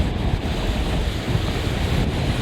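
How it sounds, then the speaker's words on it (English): Strong wind from Hurricane Isaias buffets the microphone over crashing surf at Myrtle Beach during a record high tide, a dense, continuous roar with no talking. "So we're getting a little bit more wind here, Felicia, than you got"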